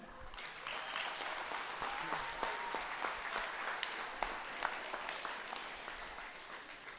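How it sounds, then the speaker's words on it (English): Parents, players and coaches at a kids' flag football draft in a public library clap for the ROTC group, a quiet, distant patter of many hands that holds steady for several seconds. "Let's clap it up one more time for ROTC"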